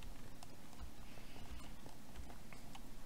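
Horse hooves in Minecraft on prairie ground clop in a quick, steady rhythm, faint and soft over a hissy background.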